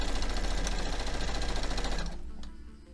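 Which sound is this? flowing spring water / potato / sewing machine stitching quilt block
sewing machine stitching quilt block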